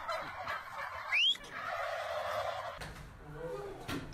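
A turkey gobbles once, loud and brief, over a background of voices and general noise.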